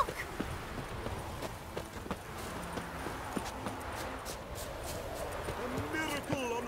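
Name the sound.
horse hooves clip-clopping, from video game The Witcher 3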